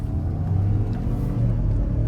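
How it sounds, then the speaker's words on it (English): A lifted Ford F-150 with the 3.5 EcoBoost engine accelerates, heard from inside as a steady low rumble with slight rises in pitch, continuous and moderately loud. "This engine sounds healthy."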